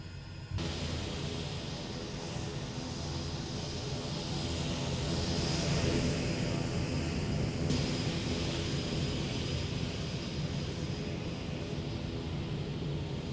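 A Pilatus PC-6 turboprop taxis in Microsoft Flight Simulator 2024, its engine holding a steady, close drone with a whining tone that swells slightly midway, no talk.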